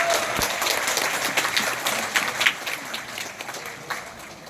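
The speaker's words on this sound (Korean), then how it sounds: "박수 부탁드립니다" Steady applause from an audience, many hands clapping together at a moderate distance, sustained throughout.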